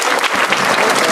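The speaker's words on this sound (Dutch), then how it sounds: "Dat was gewoon een kort applaus" Brief burst of applause at the opening of a shopping centre in Barendrecht, a crowd clapping loudly and steadily for just over a second, with no voices.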